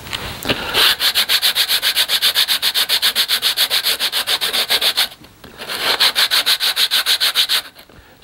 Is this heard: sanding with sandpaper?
yes